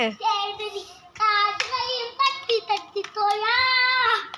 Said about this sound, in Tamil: சேர்ந்து நீயும் கைத்தட்டு.